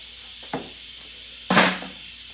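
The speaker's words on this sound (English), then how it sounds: "Spray it with some PB Blaster." Two hissing bursts from an aerosol can of PB Blaster penetrating oil, a short one followed by a longer, louder spray, close by.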